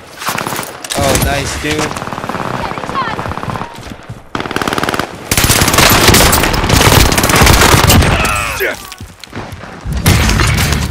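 Loud, near machine-gun fire and bursts of gunshots in Call of Duty, sustained rattling volleys broken by short gaps, with players talking over the shooting.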